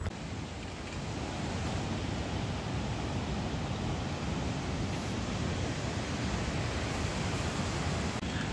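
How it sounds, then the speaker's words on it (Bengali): Sea waves at Bagda beach wash in as a broad, steady roar of surf, continuous and fairly loud with some wind buffeting, and no voices. "তো সমুদ্রের ঢেউ দেখো"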